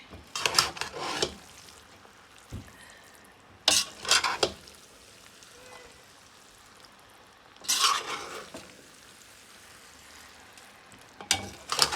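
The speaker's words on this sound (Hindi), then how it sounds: "अब हम इसे मिक्स कर रहे हैं।" Chicken noodles are stirred in a frying pan, with scraping bursts of mixing over a soft, steady sizzle, close and fairly quiet.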